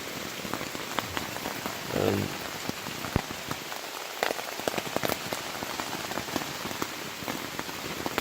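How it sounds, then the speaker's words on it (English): Heavy rain drumming steadily on a surface nearby during a thunderstorm at an Appalachian Trail campsite, with scattered louder drops and a brief low rumble of thunder partway through. "We're having a thunderstorm. It's pouring down the rain."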